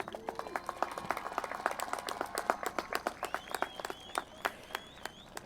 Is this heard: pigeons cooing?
no